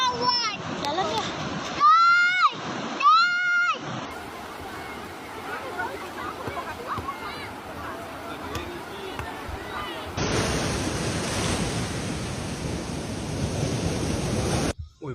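Storm wind and seawater surging over a flooded shore in Jakarta during high waves and tidal flooding, a loud steady broadband rush with splashing; excited voices shout over it early on, and the noise intensifies sharply partway through.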